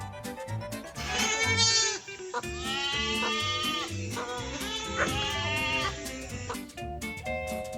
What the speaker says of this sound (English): Goat. Goat in Spanish is cabro.